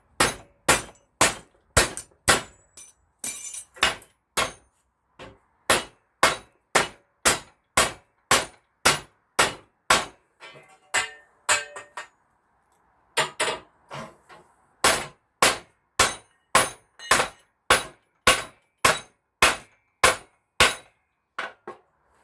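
Hammer blows on a metal polytunnel part being flattened, a steady series of sharp, loud metallic clangs in regular rhythm with a brief pause midway, no talking.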